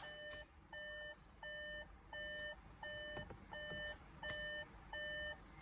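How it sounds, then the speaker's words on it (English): A Skoda Kodiaq chimes its door-open warning, a rhythmic series of about eight evenly spaced electronic beeps, each a clear tone lasting roughly half a second, heard fairly close in a quiet setting. "I'm beeping because my door is open."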